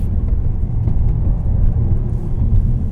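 A 2016 Jaguar XF 35t R-Sport with its ZF 8-speed automatic drives along a hilly road, a loud, steady low engine rumble filling the cabin with slight surges in power and no talk.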